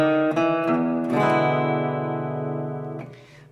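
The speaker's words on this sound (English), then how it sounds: "I like to play a turnaround figure, which sounds like this." A guitar plays a short blues turnaround figure for a song: a few picked notes lead into a ringing chord that sustains and slowly fades, close and alone.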